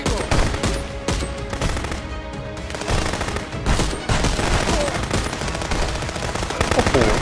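Heavy automatic gunfire in the video game Contraband Police, with dense overlapping bursts of machine-gun fire filling the clip loudly and nearly without pause.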